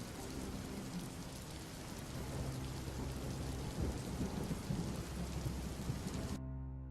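Steady rain and rumbling thunder in a stormy night scene from the video game Detective Di: The Silk Rose Murders, a dense continuous downpour with a low roll of thunder, loud and unbroken, ending abruptly.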